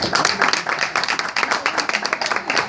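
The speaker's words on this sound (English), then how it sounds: "Round of applause for her." Audience at a press event for the Bronx Puerto Rican Day Parade clapping for an honoree, a brisk, close round of applause that stays fairly even throughout.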